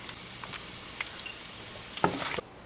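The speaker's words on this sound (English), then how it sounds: "You hear the bacon starting to fry up nicely in the pan." Bacon frying in a pan makes a quiet, continuous sizzle with scattered crackles and pops, and one sharper spatter near the end before it cuts off.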